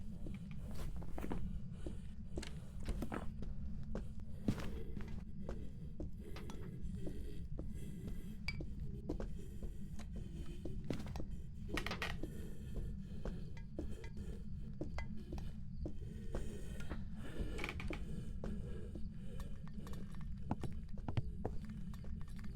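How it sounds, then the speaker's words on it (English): Footsteps in the video game Phasmophobia, a long series of sharp, irregular knocking steps over a constant low rumble, fairly faint and without any talking. "I hear the footsteps."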